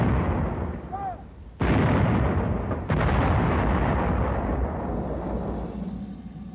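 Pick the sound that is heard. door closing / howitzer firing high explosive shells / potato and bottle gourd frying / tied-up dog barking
howitzer firing high explosive shells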